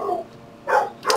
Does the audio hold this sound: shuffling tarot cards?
no